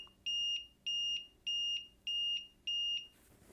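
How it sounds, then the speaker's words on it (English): A Ticktime timer's alarm sounds five evenly spaced bursts of rapid shrill electronic beeping, close and clear with short gaps between, and no one speaking. "Now if I set it down, it's going to activate it, and we'll get to hear the alarm."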